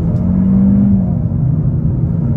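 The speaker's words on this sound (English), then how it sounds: "we can try out an acceleration off the line. Right here. On the gas," A 2023 Kia K5 GT-Line pulls away from a stop under throttle, giving a steady, fairly loud engine drone and road rumble from inside the cabin, with a brief rising note early on.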